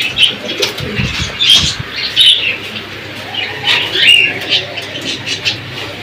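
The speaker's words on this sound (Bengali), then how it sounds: "ছাড়াছাড়ির জন্য খুবই পারফেক্ট একটা এক্সিলেন্ট একটা কবুতর" Silver pigeons beat their wings in a run of short, ragged flapping bursts close by, with faint coos and chirps mixed into a steady background.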